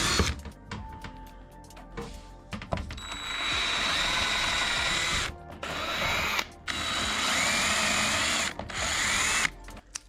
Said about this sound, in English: and just drill those holes in the wood.